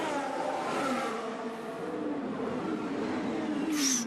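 Formula 1 car engine in the F1 2022 video game at Monaco, a high, whining engine note rising and falling as the car runs past, steady and moderately loud throughout.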